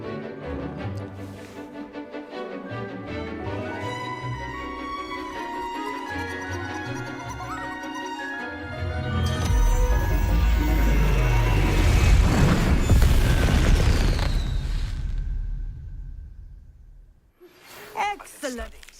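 Bombarda blasting spell in Hogwarts Legacy: a loud, deep rumbling blast swells midway through and slowly fades, following a stretch of orchestral game music.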